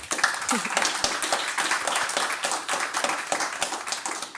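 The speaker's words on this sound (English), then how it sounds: "Can I have another round of applause for them?" An audience at a design event applauds the designers, a steady patter of moderate clapping that carries on for several seconds with faint voices underneath.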